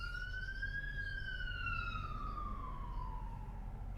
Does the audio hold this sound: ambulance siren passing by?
yes